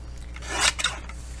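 Scissors snip around small paper calendar pieces, making a quick pair of close, crisp cuts over quiet room noise.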